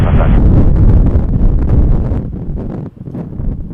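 Strong wind buffets the microphone at Montréal-Trudeau International Airport, producing loud, low rumbling gusts that rise and fall throughout.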